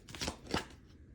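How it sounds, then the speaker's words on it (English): Tarot cards being shuffled by hand, two quick soft riffling bursts, close and faint, with no talking. "we're giving this a good shuffle."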